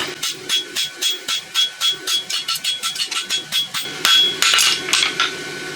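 A hammer strikes a steel roadster horseshoe on an anvil in a fast, even run of about twenty sharp ringing blows, close and loud, ending in a brief burst of hissing.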